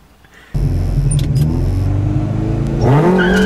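A VW Caddy bakkie with a 2.0-litre 8-valve engine roars to life with a sudden loud rev, holds a steady droning rumble, then climbs in pitch as it accelerates on the street, heard up close.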